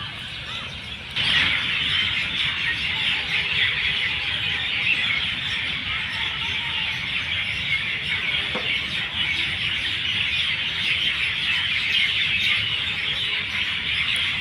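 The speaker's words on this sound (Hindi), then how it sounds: "और भाई पक्षियों की आवाज़ है ना यहाँ पे बहुत ही प्यारी आती है।" Birds singing in a botanical garden with a jungle walking track, a dense steady chorus of chirping and twittering that runs throughout at moderate distance, with no talking.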